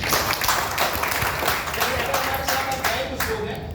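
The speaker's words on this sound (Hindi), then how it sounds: "एक बार वेलकम, जोरदार तालियों से।" Seminar audience claps to welcome guests, a dense wash of applause sustained throughout with speech mixed in over it.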